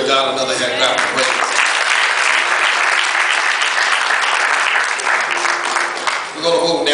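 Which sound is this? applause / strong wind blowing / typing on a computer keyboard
applause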